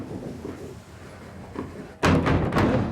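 Wooden trapdoors in an old working mill bang open with a loud sudden thump as a sack is hoisted up through the floors, following a quieter stretch of creaking machinery.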